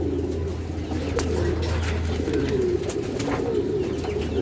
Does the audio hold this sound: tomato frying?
no